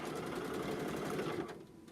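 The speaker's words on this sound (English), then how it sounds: "Back stitch it, and so it's sturdy." A sewing machine back stitching a fabric tissue holder, a rapid, even mechanical whirring close by that runs for over a second before stopping abruptly.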